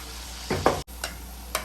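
Papad dropped into hot oil gives short bursts of sizzling and bubbling, with a louder splash of frying followed by two fainter crackles.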